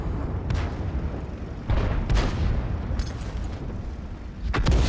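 Tank guns fire in World of Tanks, a series of heavy booming shots spaced a second or two apart, each loud blast trailing off in rumble with no talk over them.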